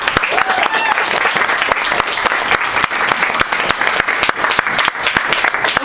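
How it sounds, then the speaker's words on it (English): Loud, close applause from an audience at an open mic event, sharp individual claps standing out in a dense rapid patter, with a few cheers mixed in throughout. "let's once again big applause for Sarah and Ariel."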